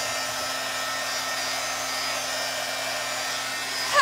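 A hair dryer blows on fresh red paint, a steady whooshing whir with a constant hum, close and continuous until a brief bump at the end.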